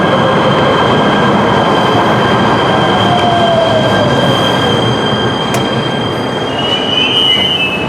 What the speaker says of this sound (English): and this train going by.